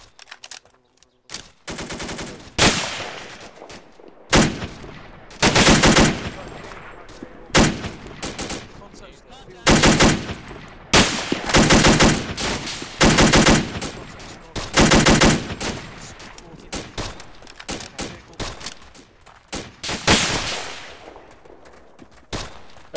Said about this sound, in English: We're getting shot or something. Something's going on behind us.